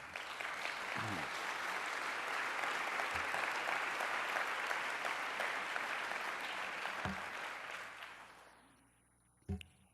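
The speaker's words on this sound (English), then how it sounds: "hold your applause. No, applaud more." A large lecture audience applauds at a public book presentation, dense sustained clapping that holds for about eight seconds, then fades out, leaving a near-silent room and a single knock.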